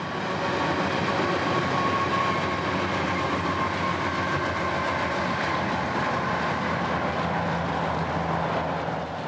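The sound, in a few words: freight train EO41 on the S-line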